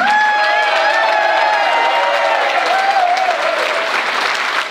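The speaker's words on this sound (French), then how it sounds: "et on les acclame" A political rally crowd bursts into loud, sustained applause and cheering, dense clapping filling the space and fading slightly toward the end, with a voice ringing over it.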